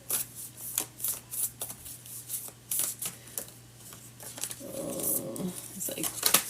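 Oracle cards shuffled loosely by hand, a run of soft papery riffles and flicks repeating over several seconds, close by and moderately quiet, with a steady low hum underneath.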